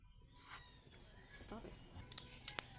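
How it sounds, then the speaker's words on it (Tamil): Mustard seeds frying in hot cooking oil at the start of a cauliflower gravy give a few sharp, crackling pops close by. The pops cluster near the end over a faint background sizzle. "கடுகு பொரிஞ்சிச்சுங்க"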